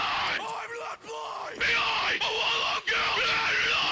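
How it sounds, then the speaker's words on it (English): Loud, aggressive yelled and screamed rock vocals run through a Bomb Factory SansAmp PSA1 distortion plugin, sounding harsh and gritty in continuous bursts with brief gaps between phrases. "First, the SansAmp. Good old Bomb Factory PSA1."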